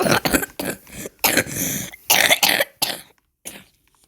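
A string of harsh, close coughs in several bursts, with some throat clearing mixed in, fading toward the end.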